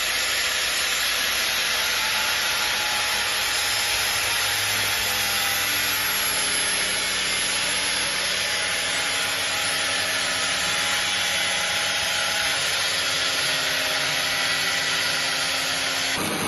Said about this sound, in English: 9-inch grinder.